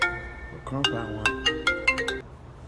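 A phone rings during an outgoing call to a son: several short electronic ringtone bursts in quick succession, fairly close and moderate in level, with no talking.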